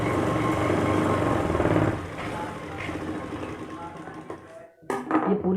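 Electric sewing machine running a seam on ladies' pants, a steady dense mechanical whir that eases off partway, then stops, with a brief clatter near the end.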